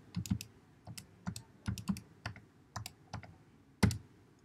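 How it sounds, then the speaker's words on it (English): Fingers tap out a calculation on a calculator keypad, about fifteen crisp, close key clicks in an uneven rhythm with small pauses between groups, in a quiet room. "which is how I type it into my calculator"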